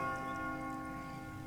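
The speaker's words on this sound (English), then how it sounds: "Judgment bells are ringing." A church bell's tone rings out and hangs in the air, a steady harmonic hum slowly fading.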